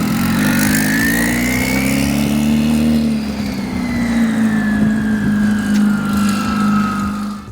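A rebuilt race car engine idles loudly and close by, holding a steady deep drone while its pitch drifts gently up and down, with no voices.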